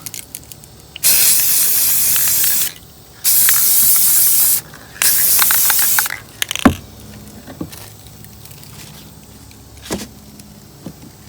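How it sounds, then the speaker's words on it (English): Rust-Oleum 2X spray paint hisses from an aerosol can in three long, loud bursts of roughly two seconds each, followed by quieter handling noises and a few knocks. "Next layer is also Rust-Oleum 2X. Same can I just used on first layer."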